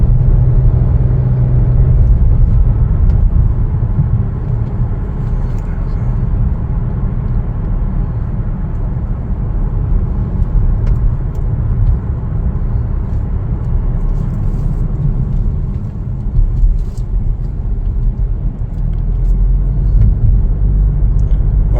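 A Chevrolet Trailblazer RS with a panoramic sunroof cruises along a road, heard from the cabin as a steady low engine drone and tyre rumble that holds evenly throughout, with no talking.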